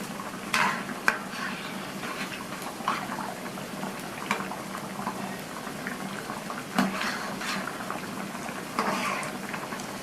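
Rava vadas frying in oil in a pan, a soft continuous sizzle and bubbling broken by scraping clicks as each vada is flipped, fairly quiet and close.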